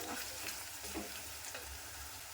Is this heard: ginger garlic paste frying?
yes